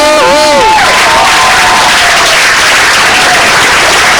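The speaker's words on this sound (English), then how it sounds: "How about another round of applause for these guys?" Audience applause at a black belt award ceremony for martial arts students, loud and sustained from a crowd with some cheering; a few voices sound over the start before the clapping fills the room.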